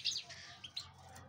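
A small finch or canary chirps a few quick, high, close tweets in a brief burst, fairly faint against a quiet room.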